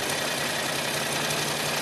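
A Predator 670cc engine runs with the accelerator held down, a loud, steady, rough mechanical drone that is continuous and close for the whole short stretch, with no talking.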